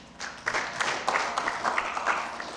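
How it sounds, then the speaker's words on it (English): Conference audience claps in a moderate, somewhat sparse applause, individual hand claps standing out as the clapping builds slightly and continues. "we give a round of applause, please?"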